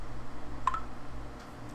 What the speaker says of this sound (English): There's so many Snapchat notifications.